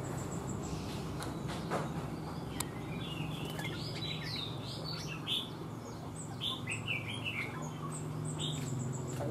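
Caged songbirds, a prized wild-caught bird among them, chirp and trill in short repeated phrases against a steady background hum, with calls coming from more than one bird at moderate distance.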